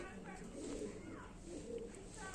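Pigeons coo softly in a low, throaty murmur, a couple of rolling calls close by against a faint background hum, with no clear talk over them.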